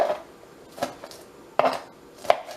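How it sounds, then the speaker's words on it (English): A knife chops vegetables fairly coarsely for shrimp and chicken noodle soup, four separate solid taps on a cutting board spaced about half a second apart, close and clear with no talking. "I'm chopping them up pretty big because I want them big."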